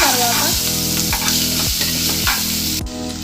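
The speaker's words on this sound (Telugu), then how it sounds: "2 వంతులు ఉల్లిపాయలు, పచ్చిమిర్చి వేసుకొని కొంచెం దోరగా వేగిన తర్వాత అల్లం వెల్లుల్లి పేస్ట్ వేసుకోవాలి" Ginger garlic paste frying with onions and green chillies in a cooker for mutton gravy curry: loud constant sizzling broken by regular scraping stir strokes about twice a second.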